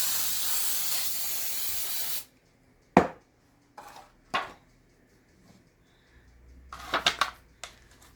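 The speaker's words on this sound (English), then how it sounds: "Spray your pan out." A steady hiss of cooking spray onto a disposable loaf pan for about two seconds, then quiet with a few sharp knocks and clatters as the pan is handled.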